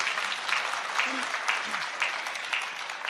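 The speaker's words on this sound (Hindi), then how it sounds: "एक बार जोरदार तालियां बजाकर बताइए कि आप मुझे सुन रहे हैं" Applause rolls through the audience at a Hindi comic poetry gathering, a steady, even clapping that holds loud and close for the whole stretch.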